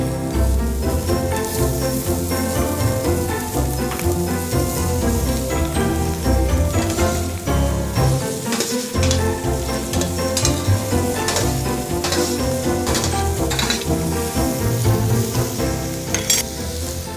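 Meat and salad sizzle and fry in a very hot frying pan, a loud, dense, continuous crackle with occasional stirring scrapes and no talking.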